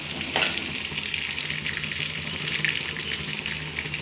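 Green chillies sautéing in a hot pan for a stingray fish curry, a steady bright sizzle with crackling oil and a few louder spits, close and continuous, with no talking.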